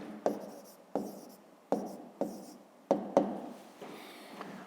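A pen writes a number in a notebook: a series of about seven distinct scratchy strokes, each starting with a sharp tap and fading, close and quiet with no talk.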